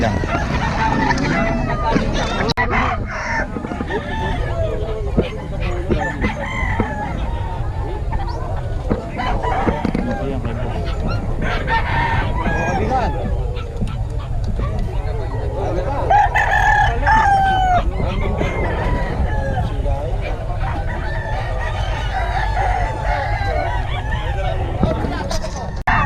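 Roosters crowing and chickens clucking at a busy fowl market in Bocaue, a dense continuous din of overlapping crows and clucks under steady crowd chatter and nearby voices throughout.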